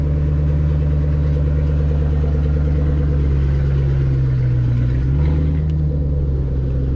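A Ford Mustang Shelby GT500, freshly fitted with a smaller supercharger pulley and a Lund tune, idles with a loud, steady deep rumble, its pitch dipping briefly near the end.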